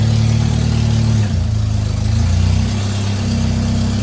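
A BMW E46 318 engine runs steadily in gear right after a new clutch was fitted, a loud, close, low idle drone with a slight dip in pitch partway through, no talking.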